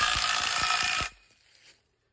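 Ratcheting clicks from tightening a foundation screw head onto its screw, a quick run of about six sharp metallic ticks over a hissy bed, then an abrupt stop into near silence.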